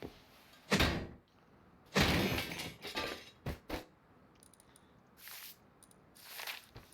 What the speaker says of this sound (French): On ferme les portes, c'est plus poli.